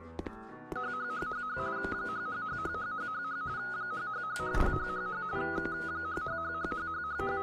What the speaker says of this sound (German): Das war echt ein scheiß Klingelton